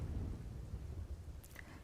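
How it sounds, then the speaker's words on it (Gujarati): Heavy rain with thunder in Dhrangadhra, Surendranagar, heard as a faint, continuous low rumble under a steady rain wash, with no talking. "રાજ્યના અનેક શહેરોમાં સવારથી જ વરસાદે ધમાકેદાર એન્ટ્રી કરી છે"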